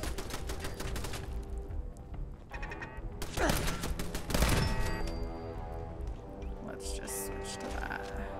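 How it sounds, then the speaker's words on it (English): Gunfire in Fallout 4 rattles in dense, sustained volleys that sound loud and continuous, with a player's voice talking over the shooting. "What is shooting at me?"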